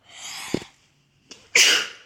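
A person sneezes twice in quick succession during a sneezing fit, a softer first burst followed by a louder, sharper second one, close to the mic.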